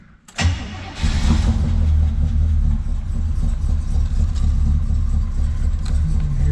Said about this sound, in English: you hear the exhaust. As I mentioned, the MagnaFlow dual exhaust.